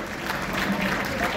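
An audience at a Cavite Association of Nevada officer induction applauds loudly in a dense, continuous wash of clapping, with crowd voices mixed in throughout the short burst.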